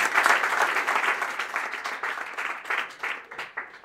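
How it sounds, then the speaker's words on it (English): An audience at a chapter speech event bursts into applause, loud at first and then gradually thinning out as the clapping fades over a few seconds. "Clap for her, please."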